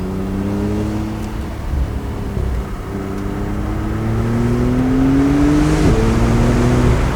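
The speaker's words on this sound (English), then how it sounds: "Engine sounds great." A 2019 Porsche 911 Targa 4 GTS engine drones steadily from inside the cabin, its pitch climbing through a long pull before a quick shift drops it near the end, then building again; loud, continuous and with no talking.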